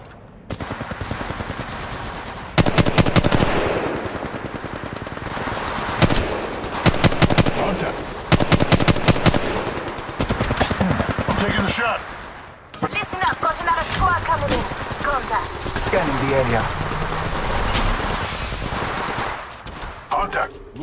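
Gunfire in the video game Apex Legends: bursts of rapid automatic shots and single cracks come and go over a busy game soundtrack, loud and close, with a voice speaking over the action.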